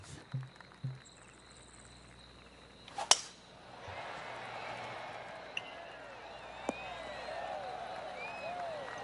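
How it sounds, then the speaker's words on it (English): Light, scattered applause from distant golf spectators outdoors, soft and polite, following a sharp click, with faint ambient noise throughout. "Oh, golf clap."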